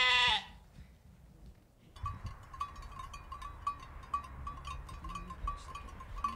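Sheep at a church Christmas program give faint bleats within a busy, murmuring room ambience, with a loud tonal burst at the start and no clear speech.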